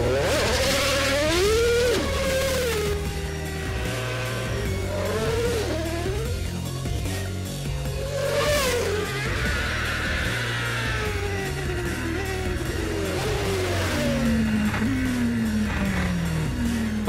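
A Formula 1 race car engine revs and whines at high pitch, its tone rising and falling through gear changes, loud and sustained throughout with a steady mechanical drone underneath.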